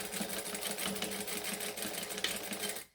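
Sewing machine stitching fabric in a steady rapid mechanical patter, close and quiet, running continuously before stopping abruptly at the end.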